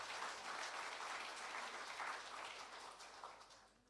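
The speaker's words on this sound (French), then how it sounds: "J'aimerais qu'on puisse les applaudir à tous les constructeurs qui sont encore là parmi nous." A church congregation claps together in sustained, even applause that sounds somewhat distant and slowly fades toward the end.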